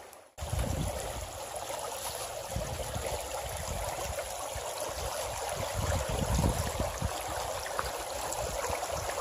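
Floodwater rushes steadily through a swollen creek, a close, continuous burbling and gushing over rocks with low thumps, no voices heard.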